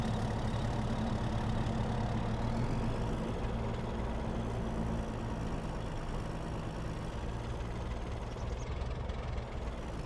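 A truck engine idling in Farming Simulator 22, a steady, loud, low rumble that holds evenly throughout with no other sounds on top.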